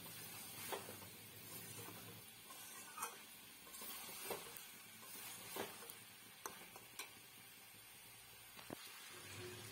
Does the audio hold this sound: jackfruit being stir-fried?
yes